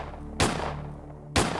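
Two loud, sharp gunshots about a second apart ring out in a documentary reenactment of a robbery shootout with a .38 and a .22, each one close and abrupt over a low hum.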